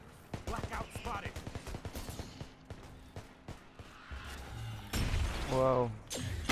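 Gun firing in the game Earthfall: rapid bursts of sharp shots over the first few seconds, then thuds and game noise with a voice speaking toward the end.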